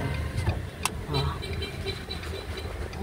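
A car engine runs with a continuous low rumble from inside a moving vehicle, with a few brief clicks and rattles and speech-like sounds over it.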